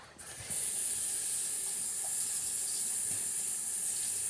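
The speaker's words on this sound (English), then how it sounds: "I'm going to go ahead and wash my hands off." Tap water runs steadily into a kitchen sink for hand washing during meatloaf preparation, a loud continuous hissing stream that starts abruptly and keeps flowing, alone without speech.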